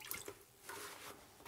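Water dribbles faintly into a bucket from a grout sponge being wrung out after tile work, a few soft drips and trickles close by and quiet.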